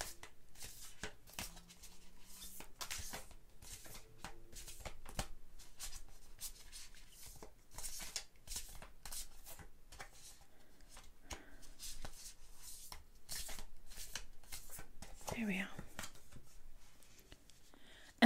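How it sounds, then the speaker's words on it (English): Oracle cards being shuffled by hand, a run of quick, crisp riffling and soft slapping bursts, close and fairly quiet, with brief pauses between passes and no talking. "I'm going to go ahead and shuffle again"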